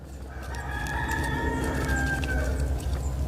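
Roosters crow outdoors in a yard, one long drawn-out cock-a-doodle-doo rising and holding over steady low background rumble, moderately near.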